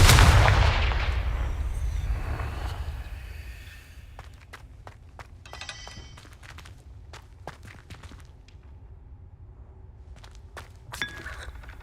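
A Confringo fire spell in Hogwarts Legacy blasts with a loud, booming burst at the start that rumbles and fades over several seconds, followed by scattered footsteps and small impacts in a quiet space.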